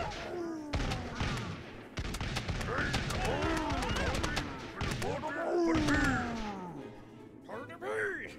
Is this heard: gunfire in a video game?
yes